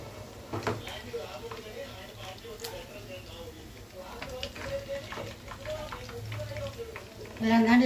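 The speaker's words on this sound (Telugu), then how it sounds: "ముక్కలు కూడా బాగా ఫ్రై అయింది" Pieces frying in oil in a pan, with a steady soft crackling sizzle throughout and a louder burst near the end, under a person talking.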